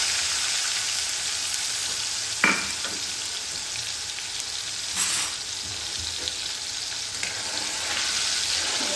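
Chopped tomato sizzles loudly and steadily in a hot oil tempering of mustard seeds, cumin and asafoetida, heard up close and alone, with a few brief stirring clinks.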